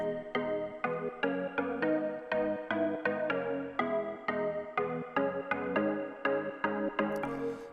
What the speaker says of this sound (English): This is the initial chord progression that I wanted it to be as the second drop.